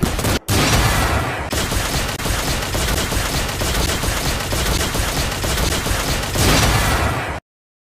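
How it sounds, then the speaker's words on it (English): A dense, continuous barrage of rapid gunfire is aimed at zombies and stays loud and unbroken for about seven seconds after a brief opening gap. "You might think shooting zombies is the best defense in the apocalypse."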